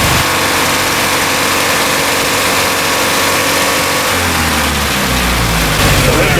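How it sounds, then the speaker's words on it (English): A Triumph TR3 engine with a Lucas distributor starts at a steady idle, then revs up with a rising, throaty roar heard close and loud. "Let me just rev it up a little bit."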